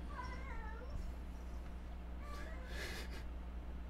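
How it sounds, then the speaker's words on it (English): Cats meow faintly several times in the background, the mewing rising and falling under a steady low hum, with a brief louder noisy burst later on. "I don't know if you can hear the cats."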